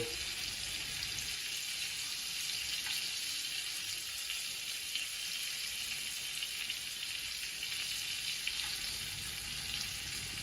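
Coconut-crusted, floured crayfish French-frying in hot oil, a steady, dense sizzle and bubbling crackle that holds at an even, close level throughout with no voices.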